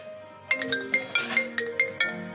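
A phone ringtone for an incoming call chimes in a quick series of bright, evenly spaced electronic pulses over a soft sustained tone, close and fairly quiet, with no talking.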